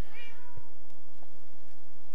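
Cats in the Minecraft video game meow with a high, gliding cry near the start, followed by a few faint clicks and thuds against a quiet game backdrop.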